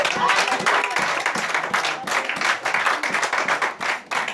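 A church congregation applauds during a Friday night prayer vigil at MFCI Church. The applause is dense and sustained, rises and falls for several seconds, and has voices mixed in.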